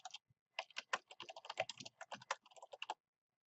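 Rapid typing on a computer keyboard while entering text into a Microsoft Excel spreadsheet cell, a close, crisp run of irregular key clicks lasting about three seconds, then silence.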